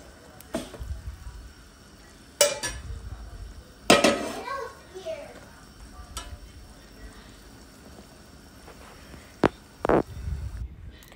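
Chicken and fried onions (beresta) being stirred in a hot frying pan, with a few sharp utensil scrapes and clinks against the pan standing out over a quiet background and low murmur.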